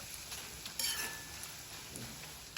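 Thin poha fries in hot oil, a soft continuous sizzle with occasional stirring scrapes of a spoon in the pan, close and fairly quiet with no talking.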